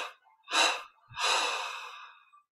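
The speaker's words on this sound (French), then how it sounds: "on prend une inspiration profonde par les narines, 3 expirations par la bouche et le nez" A slow, deep breath drawn in through the nose, followed by a long, audible exhalation through the mouth, close and clear in a quiet room during a guided meditation.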